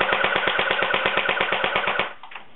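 A Kirenex M4 airsoft assault rifle fires on full automatic: a close, fast, even stream of about fifteen mechanical pops, each with a buzzy ring, cutting off after two seconds into a faint rattling tail.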